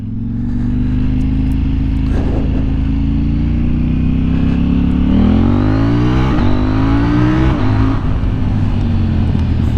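A loud 2020 KTM motorcycle with an Akrapovic exhaust revs repeatedly, its deep exhaust note rising and falling in pitch and staying close and dominant throughout.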